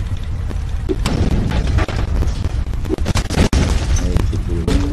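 A dense run of explosions in the browser game Fire Catcher, booming blasts and crashing bursts layered over a constant low rumble, loud and busy throughout.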